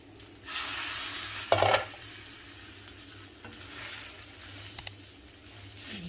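Brinjal pieces cooking in oil in a pan for an old-style Telugu oil-brinjal curry. A steady soft sizzle runs throughout, broken by a brief louder scrape and a few light clicks as the pieces are turned, with no voices.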